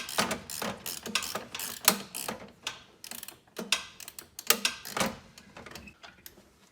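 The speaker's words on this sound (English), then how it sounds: "Just taking these two screws off here with this 15." A ratchet wrench with a 15 socket backs out two screws during car brake work. It makes close bursts of sharp, quick clicks in uneven runs, with brief pauses between strokes and no talk.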